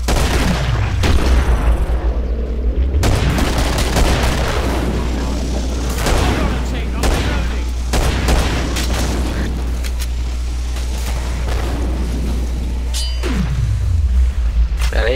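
Intense gunfire and heavy explosions in the video game Killing Floor, with dense booming blasts and rapid shots running throughout, under occasional talk from players.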